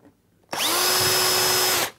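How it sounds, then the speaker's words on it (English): A power drill bores a quick pilot hole through the back panel of a 600 appliance wall unit during assembly, a single loud steady whine starting abruptly, holding for over a second, then cutting off, close and alone. "drill a quick pilot hole"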